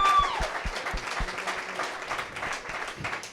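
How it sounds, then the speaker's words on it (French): An audience at a comedy after-show claps in a steady burst of applause, moderately close, with a few louder individual claps at the start. "On peut applaudir Norm."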